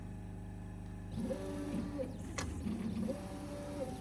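A Neoden YY1 pick and place machine runs after a quiet start, its motors whirring and buzzing in short repeated bursts with small clicks as the head moves.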